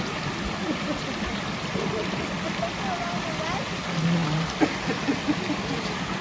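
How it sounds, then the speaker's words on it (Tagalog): Water runs down from rural fields in a steady, close rushing flow, with a few faint scattered sounds and brief splashes near the end. "dyan po nang gagaling sa bukid ang tubig"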